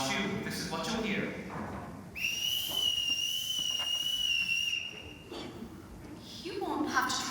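Shrill two-tone signal whistle blown in a stage production of The Sound of Music, one long sustained blast of about three seconds between stretches of people talking.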